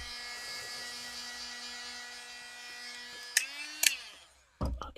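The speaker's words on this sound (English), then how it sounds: "I know it can be annoying, the sound of the dryer." Small handheld drying tool used for gel-printing art gives a steady high-pitched electric whine and buzz, with a couple of sharp clicks and pitch shifts near the end before it cuts out.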